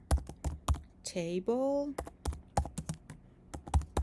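Computer keyboard keys clatter in quick, uneven bursts of crisp clicks as a SQL command is typed, close and distinct, pausing while a voice speaks briefly.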